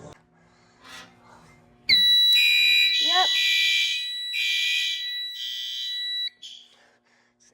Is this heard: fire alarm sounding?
yes